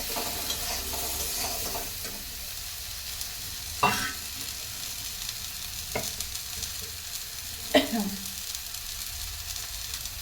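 Turmeric and spices fry in a pan for a sweet potato sour dish, a steady sizzle running throughout with a few sharp scraping stirs of the spatula standing out above it.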